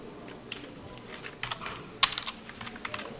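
Scattered keystrokes tap on a computer keyboard as copy and paste shortcuts are pressed, with one sharper click in the middle and light, uneven taps around it.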